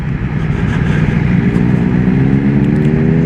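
Loud, close motorcycle engine droning just after a downshift into second gear, holding a steady low rumble with a slight rise in revs across a few seconds.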